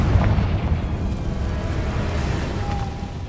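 A Confringo spell explodes in Hogwarts Legacy as a deep, rumbling boom that rolls steadily through a short stretch of gameplay with no talking.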